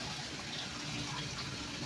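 Cold water pours and gushes steadily into a container to cool dumplings, a continuous close splashing rush with no talk.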